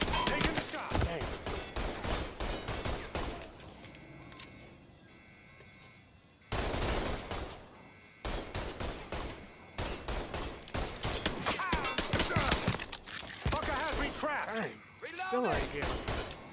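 Rapid gunfire bursts in a Mafia 3 shootout, sharp cracking volleys repeating in clusters with brief lulls, loud and close, mixed with game music and voices talking over the action.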